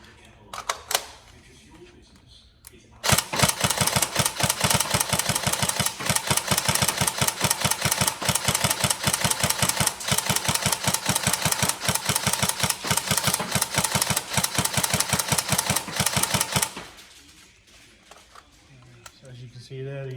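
Upgraded Tokyo Marui SCAR-L NGRS electric airsoft rifle fires one long sustained full-auto burst of about fourteen seconds, a loud, rapid, even mechanical chatter, with brief clicks before and a quieter tail afterward.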